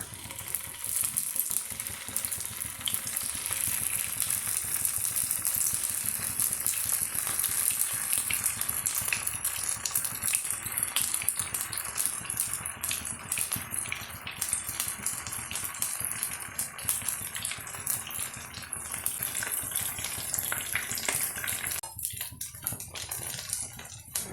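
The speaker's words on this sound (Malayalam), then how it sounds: "ഇനി ഒരു പാൻ അടുപ്പത്ത് വെച്ച് 1/4 കപ്പ് സൺഫ്ലവർ ഓയിൽ ഒഴിച്ച ശേഷം ഇത് അതിൽ വറുത്ത് കോരുക" Steady, dense crackle and hiss of soya chunks frying in sunflower oil, continuous and fairly loud throughout, with faint rattling from the pan.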